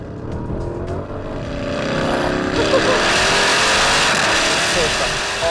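A modified Porsche Cayenne Turbo SUV engine and exhaust give a steady, full rumble that swells as it accelerates, heard from inside the cabin under a person talking.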